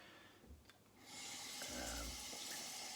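Lukewarm water poured onto shaving soap in a bowl just before a shave, starting as a steady close hiss of flowing liquid after a quiet moment and continuing until the end.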